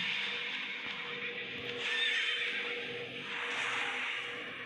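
A horse neighs in the racing video game Speed Drifters, a loud, bright, shaky whinny that swells twice over a few seconds with no talking.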